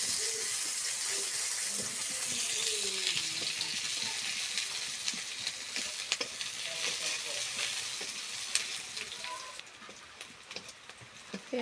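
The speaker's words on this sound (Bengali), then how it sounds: "পেঁয়াজ ভাজা হয়ে গেছে" Onions frying in a little oil with whole cumin seeds, stirred in a pan before mutton is added; a steady close sizzle with occasional scraping clicks of the spoon, fading slightly toward the end.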